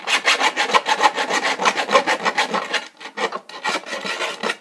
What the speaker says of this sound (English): we'll take some files, and we'll just kind of, we just want to take our time and try to make the corners nice and